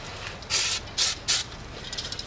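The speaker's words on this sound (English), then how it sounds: "I'll spray this down first, just to get that first layer of" Aerosol cleaner sprayed onto a front brake rotor of a Jeep Compass, three close, loud hissing bursts, the first longest, followed by faint dripping and ticking.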